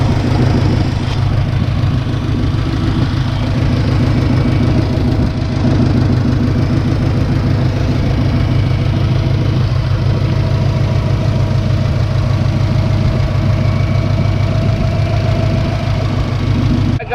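A stock Subaru WRX turbo (JDM GC) idles steadily at close range, a constant low rumble with a faint mechanical tick running unbroken throughout, no voices.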